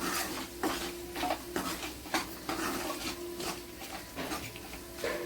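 Asafoetida being stirred into a hot tempering in a pan for raw mango pulihora, with the stove switched off: a spoon scrapes and clinks against the metal in a steady rhythm over a soft, continuous sizzle, close up, with no talking.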